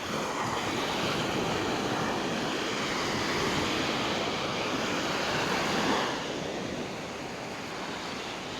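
Ocean waves break on rocks at Cala Varques in early morning, making a loud continuous roar and hiss that eases slightly after about six seconds, with no voices.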